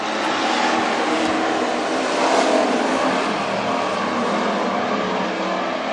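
WISSOTA street stock race cars roar around the Granite City Speedway during a heat race, a dense, continuous wall of loud engine noise that swells slightly as the pack passes.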